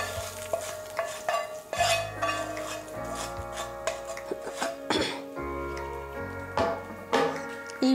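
A spoon stirs fried tempering into cooked rice for South Indian curd rice, scraping and clinking against the vessel in irregular close strokes over steady background music.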